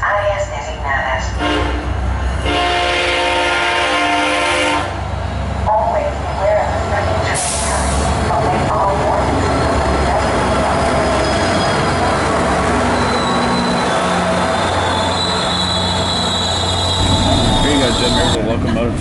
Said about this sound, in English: Locomotive to your left there.